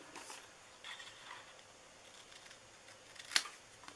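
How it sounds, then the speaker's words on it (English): Scissors snipping around paper while making an Easter bunny treat bag, a few faint soft cuts followed by one sharper, louder snip close by, with no talking. "Then I'm going to take my scissors right here and just cut around."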